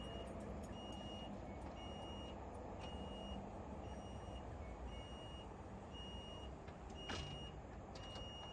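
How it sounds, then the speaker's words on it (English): Warning beeps from a Prevost X3-45 coach wheelchair lift sound as the lift lowers, a steady series of high, evenly spaced chirps over a constant low motor and engine hum, with one sharp clack near the end. "Bring the lift to the ground."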